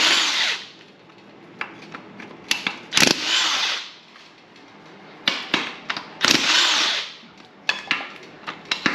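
A power tool works off an engine motor mount, its buzzing whir coming in bursts that start and stop, with clanks and rattles between runs, close by.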